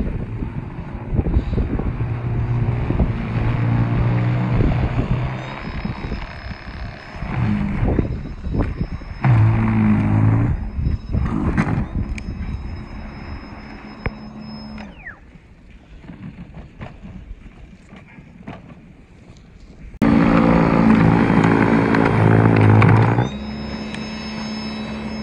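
An EGO Power electric snow blower runs in a windy snowstorm during Winter Storm Harper in Boston, a steady close whir buffeted by roaring wind gusts, dipping midway and then surging loudly for a few seconds near the end.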